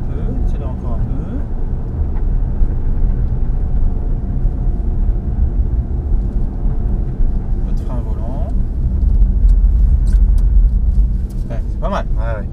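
A Nissan Juke on EasyDrift tyres accelerates while drifting, with a steady loud engine drone and road rumble throughout and occasional squeaks toward the end, as people talk over it.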